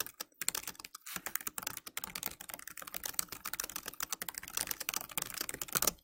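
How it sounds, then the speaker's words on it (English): Fast typing on a computer keyboard, a close, dense run of light clicking keystrokes in irregular bursts, with no voices. "let's go ahead and just type something really quickly"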